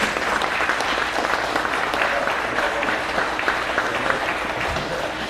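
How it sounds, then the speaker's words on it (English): An audience at a presentation on Chinook trade and early contact gives a big round of applause, a dense, steady wash of many hands clapping that holds evenly from start to finish with no voices over it. "a nice big round of applause"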